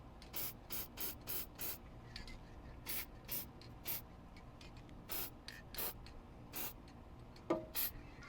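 A dozen or so short, crisp hisses of spray lubricant coat the stabilizer threads of a popup A-frame camper, arriving in an uneven rhythm, close to the mic and with no talking.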